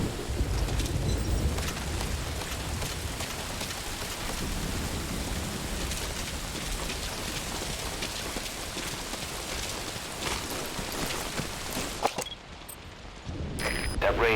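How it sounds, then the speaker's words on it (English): Heavy rain drums on surfaces in the stealth game Metal Gear Solid V: Ground Zeroes, a constant hiss and patter with faint low rumbles, briefly cutting out near the end before resuming. "That rain just won't let up."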